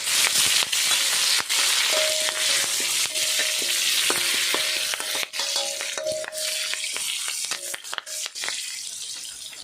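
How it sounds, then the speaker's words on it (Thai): Kaffir lime leaves fry in hot oil while fish is being prepared, giving a steady, loud sizzle with crackling pops and short tonal squeaks throughout. No one speaks. "ทอดใบมะกรูด"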